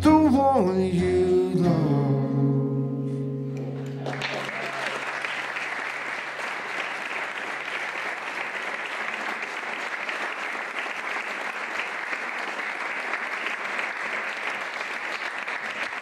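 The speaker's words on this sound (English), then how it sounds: "your applause is so loud and beautiful" Loud, dense applause from a live concert audience rises as the final sustained tones of the music fade, then continues as a steady wash of clapping for several seconds.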